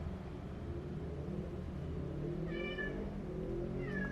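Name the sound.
cat meowing, upset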